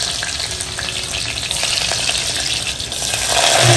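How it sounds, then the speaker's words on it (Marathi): Chili and garlic go into hot oil with fenugreek, mustard seeds and cumin to temper kadhi, giving a loud, steady sizzle and fry close by, with faint stirring and no talking. "मिरचीची फोडणी द्यायची. लसूण टाकायचं थोडंसं."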